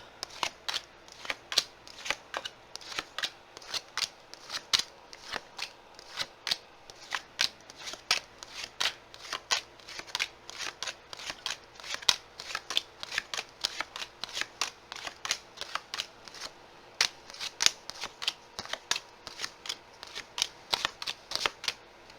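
Tarot cards being shuffled by hand, a steady run of crisp, rapid flicks and riffles repeating close up for over twenty seconds, with no talking.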